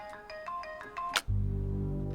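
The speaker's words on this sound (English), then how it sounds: "John Brennan receives a weird phone call" A phone plays a short melodic ringtone for an incoming call, several quick chiming notes ending in a sharp click, then a loud steady buzzing hum takes over.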